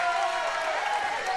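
A basketball crowd at a high-school showcase game roars with a steady, broad wash of cheering and clapping, with voices mixed in the noise.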